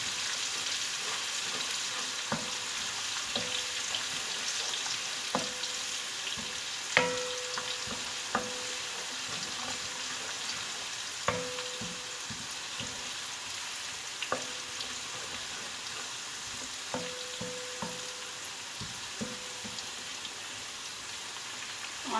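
Ginger and garlic fry in a pan for a masala bhindi (okra) dish, giving a steady low sizzle with occasional sharp clinks and scrapes from stirring at irregular intervals, and no voices.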